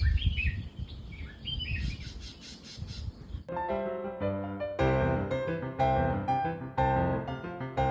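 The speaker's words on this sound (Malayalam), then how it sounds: "പ്രകൃതി ഒരുക്കിയ ഓർക്കസ്ട്ര കിളികളുടെ ശബ്ദങ്ങൾ എന്താ രസം" Birds chirp and squawk in a lively chorus in a high-range forest in Kerala at daybreak, with several repeated bright calls overlapping at close range and no talking.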